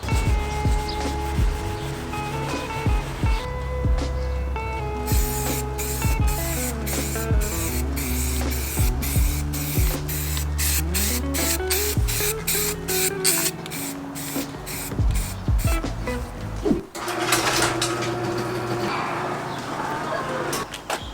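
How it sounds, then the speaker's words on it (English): Repeated bursts of a spray paint can hissing in short rhythmic pulses, interspersed with scraping and rubbing sounds, fairly loud and close, as furniture is spray painted black. "we're just gonna spray paint this whole thing black"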